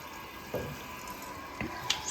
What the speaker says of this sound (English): So you can see the water is filling inside the tank.